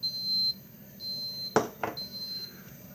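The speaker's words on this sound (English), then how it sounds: "There was 3 beeps letting you know that it's done." A Mr. Coffee coffee maker signals the end of brewing with three steady, high electronic beeps, close and clear, interrupted by a couple of brief clicks or knocks.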